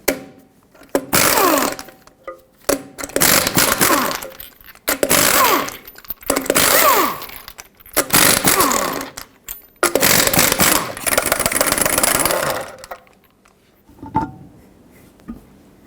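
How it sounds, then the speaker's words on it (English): An impact tool with a 21mm socket spins lug nuts off a 2009–2011 Ford F-150 rear wheel in loud, close, repeated rattling bursts separated by short pauses. "Use your 21mm socket, remove all 6 of your lug nuts, and then remove the wheel."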